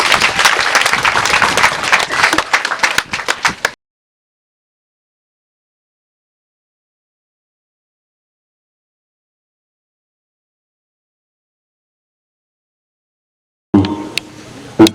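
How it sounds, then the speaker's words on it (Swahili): A school parents' day crowd claps for the guest of honor in a loud, dense burst of applause lasting a few seconds. It stops abruptly into silence, and faint sounds return near the end. "Pigieni makofi guest of honor."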